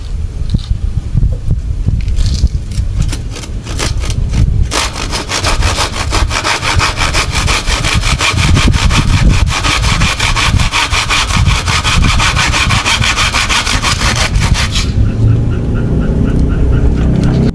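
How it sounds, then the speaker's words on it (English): A sharpened hand saw cutting through very hard wood, a close, loud run of rapid rasping back-and-forth strokes that quickens into a dense steady rhythm before stopping near the end. "paying attention to how the saw moves as it cuts"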